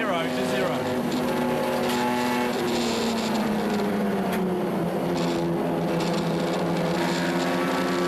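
Race cars at the Bathurst Motor Festival in a 2008 HQRA National Challenge race roar past in a continuous engine drone, pitch sliding downward as they pass, while a commentator talks over the sound.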